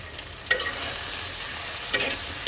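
Turmeric and coriander powder are stirred into hot oil in a pan for a falli fish curry with taro, giving a steady close sizzle with two louder scraping strokes of the spoon.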